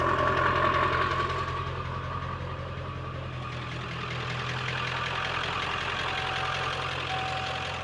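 Old, reliable 4x4 engine idling with a steady low rumble and faint knocking texture, moderately quiet and heard alone without talk.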